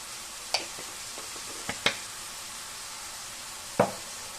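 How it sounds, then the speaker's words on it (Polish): Minced meat seasoned with marjoram and pepper fries with vegetables in a pan, a steady close sizzle broken by a few sharp clacks of stirring, with no speech. "podsmażamy tak nasze mięsko około 10 minut z warzywami"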